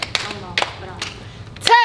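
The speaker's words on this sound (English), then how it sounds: "You two claps." Hand claps in a cheer routine land as a few sharp, separate smacks in a quick run, followed by a brief voice at the end.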